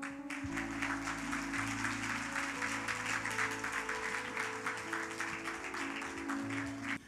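Audience applause at a Malayalam religious sermon, a dense, steady clapping that fills the whole stretch alongside sustained tonal sounds, with no speech over it.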